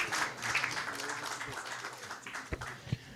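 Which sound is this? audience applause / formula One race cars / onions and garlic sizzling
audience applause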